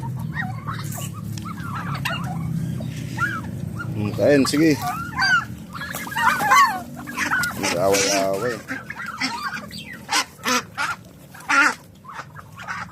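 Turkeys and ducks calling and squawking in a yard, clucking and gabbling near the listener while a person speaks briefly over the noise.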